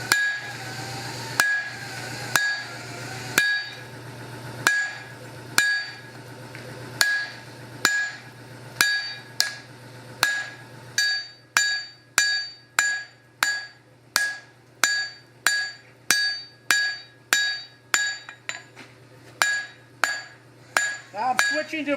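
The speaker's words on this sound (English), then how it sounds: "I'm going to move to the other side there and get the second one started, and then we will be able to draw out these parts" A hammer strikes hot steel on an anvil while a hand-forged axe is shaped, a regular series of sharp ringing blows that quickens into a steady fast rhythm.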